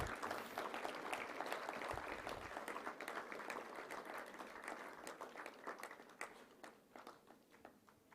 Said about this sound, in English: Big round of applause for the Honorable Minister.